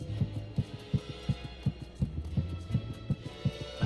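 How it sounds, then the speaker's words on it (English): A heartbeat thumps in the horror video game Tiny Bunny, a steady low double-beat pulse repeating about every half second over a faint hum, close and prominent with no voices. "The heartbeats in my ears was much louder than my surroundings."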